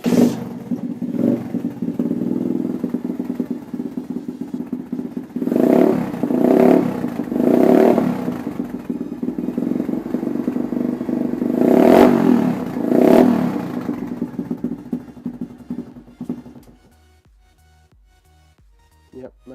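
A motorcycle fitted with a CNC smooth tip exhaust starts without choke and idles, then revs in several sharp bursts with mechanical clatter, loud and close, before the engine cuts off and falls quiet near the end.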